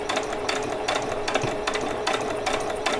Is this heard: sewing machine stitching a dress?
yes